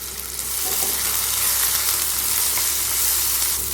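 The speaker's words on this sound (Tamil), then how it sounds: "இந்த கத்திரிக்காயை வந்து எண்ணெயிலே நல்லா வணக்குங்க" Brinjal pieces sauté in hot oil with salt and turmeric, giving a steady, close, hissing sizzle with a faint stirring scrape and no talk.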